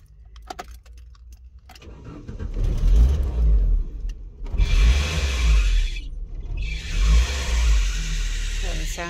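Car engine fitted with a Weber carburettor in place of a VV carburettor catches and revs in repeated rising bursts, loud and close, after a jangle of keys and starter cranking at the start.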